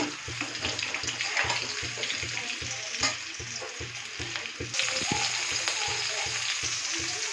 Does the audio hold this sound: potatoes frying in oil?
yes